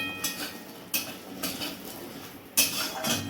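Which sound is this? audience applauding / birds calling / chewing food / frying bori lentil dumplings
frying bori lentil dumplings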